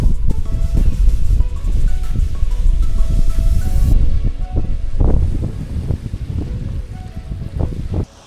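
A strong headwind buffets the microphone in a deep, gusty rumble, surging and easing in uneven pulses with no voices, loud and close throughout.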